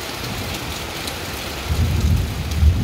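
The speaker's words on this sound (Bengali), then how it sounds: "এত পরিমাণ বৃষ্টি হয়েছে" Heavy morning rain pours in a dense, steady hiss, and a low rumble of thunder swells toward the end.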